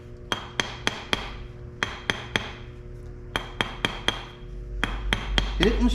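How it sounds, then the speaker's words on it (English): A hammer strikes a mokume gane ring on a ring mandrel in quick clusters of three or four sharp metallic blows, repeated several times with short pauses between groups, close and without talk. "I'm going to put it back on my ring mandrel and start hitting it again"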